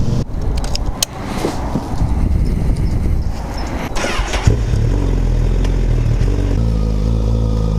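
A Ducati 959 Panigale sport motorcycle rides past and away, its engine a loud, steady roar that holds through the whole passage, with a clattering rush of mixed noise partway through.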